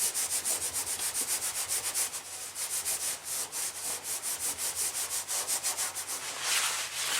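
A plastic putty knife is pushed over a vinyl stripe decal on a car body in quick, rhythmic rubbing strokes, close and fairly loud, with no talking.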